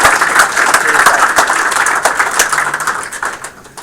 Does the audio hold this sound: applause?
yes